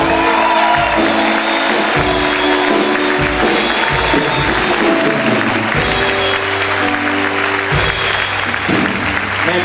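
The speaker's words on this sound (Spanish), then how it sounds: "Si yo fuera usted, aplaudiera fuerte al Señor" A church congregation applauds loudly and steadily throughout, with a dense, sustained roar of clapping hands and faint cheering in the background.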